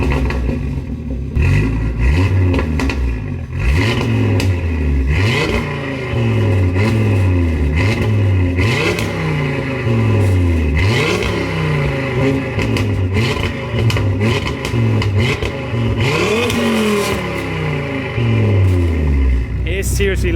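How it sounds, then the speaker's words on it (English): A 640 bhp VW Golf R fitted with an Audi RS3 2.5-litre five-cylinder engine, revved hard again and again close up, each loud rise and drop in pitch repeating in quick succession with a raspy growl throughout. "Yep, that's a Golf R with a 5-cylinder engine."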